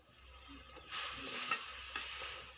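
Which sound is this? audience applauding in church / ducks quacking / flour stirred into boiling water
flour stirred into boiling water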